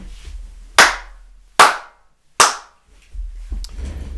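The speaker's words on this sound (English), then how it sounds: "Can you hear all them reflections, bro? Sounding mad." Three loud, evenly spaced hand claps ring out in an empty room, each trailing off in a short echoing tail, followed by a softer rustle.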